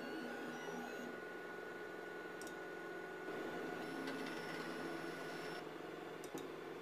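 A FLSUN delta 3D printer running its auto-leveling routine, probing points at the edges of the bed with faint whirring stepper motors, soft mechanical buzzing and a few brief high clicks in a quiet room.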